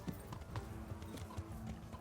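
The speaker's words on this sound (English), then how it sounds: "No! My horse!" A horse's hooves thud in a quick clip-clop rhythm in Kingdom Come: Deliverance, fairly close but muted, with game ambience and a low hum underneath.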